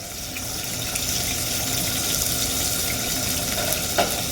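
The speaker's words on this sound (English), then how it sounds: "that's always the sound that you want to hear. Nice sizzle." A continuous broadband hiss of a chicken thigh sizzling skin-side in hot oil, steady and fairly loud, with one faint clink near the end.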